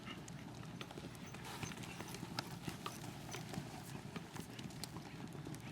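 Horses canter in an arena, a faint steady patter of hoofbeats over a low rumble of background noise, distant and continuous with no clear talk.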